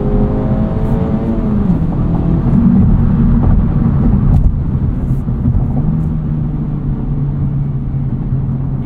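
Exhaust of a 2024 Acura Integra Type S in sport mode on an early morning drive, a steady loud engine drone and rumble with low burbling, heard alone without talk.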